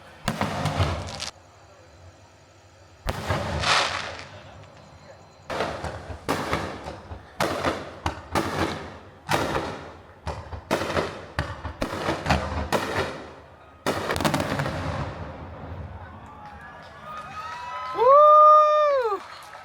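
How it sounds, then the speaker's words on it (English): Fireworks going off outside at night on Grand Cayman: a rapid series of loud booming bursts with crackling tails, some spaced a second or two apart, ending with a sharp whistling rocket rising and falling. "all of a sudden there was a fireworks show outside"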